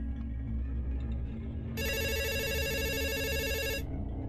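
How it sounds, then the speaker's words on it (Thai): A telephone rings in a room, a bright electronic trill lasting about two seconds that rises over a low steady background hum and then stops. "เป็นเสียงโทรศัพท์ในห้องเขาดัง"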